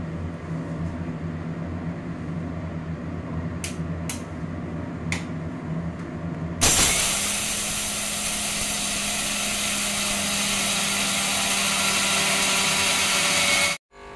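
An electric grinder whirs loudly at close range while grinding dal, raw peanuts and dried orange peel, starting abruptly after a few faint clicks and running steadily for about seven seconds before cutting off.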